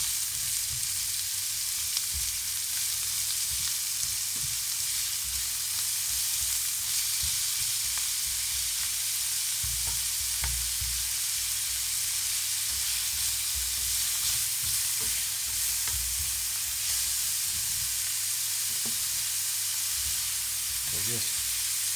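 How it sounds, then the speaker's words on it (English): Vegetables frying for a beef and Guinness pie give a steady, close hiss and sizzle throughout, with occasional soft stirring knocks from the pan. "cooking those till they're just nice and soft"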